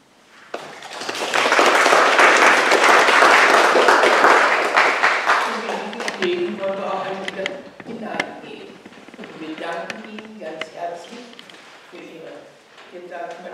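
Theatre audience applause after a performance by a parish drama group: a loud, dense burst of clapping swells and holds for several seconds, then fades as a voice begins speaking over the thinning claps.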